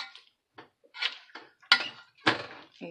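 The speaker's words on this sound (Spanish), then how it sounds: "Voy a poner las papas y las voy a moler con el moledor de frijoles" Potatoes being mashed in a pot with a bean masher, producing a series of irregular knocking and scraping clunks, close up, with short pauses between strokes.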